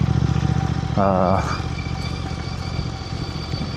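A motorcycle engine drones steadily throughout while it is ridden in Phobjikha Valley, with a voice briefly heard over it.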